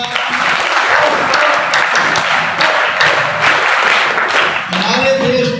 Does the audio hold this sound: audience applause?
yes